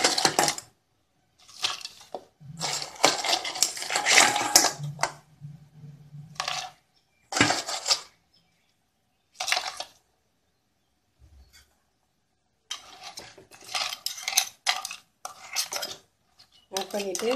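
Crab pieces clatter into a pot of simmering Tamil crab kulambu, with loud bursts of shell and metal clinking and scraping separated by quiet gaps, no talking.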